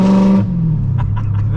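Straight-piped Audi S4 engine blares through a brief, loud rev that drops off abruptly, leaving a low rumbling idle with faint clatter underneath.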